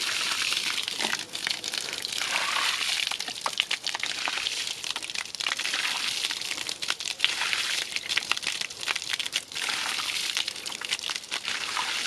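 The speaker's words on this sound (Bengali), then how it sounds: "আমার এখন মাছগুলো কাটা হয়ে গেছে, এরপরে আমি এখানে ধুয়ে নিচ্ছি।" Cut rohu fish pieces being washed by hand in water: continuous splashing, sloshing and wet rubbing, close and fairly steady throughout, with no talk.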